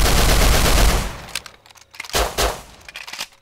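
Gunfire in the survival game Rust comes as a loud, dense burst of rapid shots, then trails off into scattered single cracks and metallic clangs, with no talk over it.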